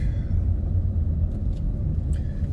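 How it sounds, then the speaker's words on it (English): San Francisco city traffic rolls past as a loud, steady low rumble of cars and engines, heard from inside a moving vehicle, with a few faint higher clicks. "There's a lot of traffic."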